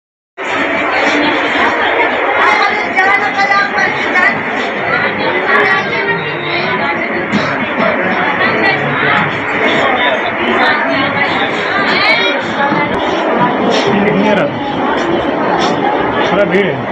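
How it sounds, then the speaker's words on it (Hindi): A crowd of patients at a district hospital in Sheikhpura, chattering steadily and densely throughout, many overlapping voices with occasional laughter, close and continuous. "थोड़ा भीड़ है।"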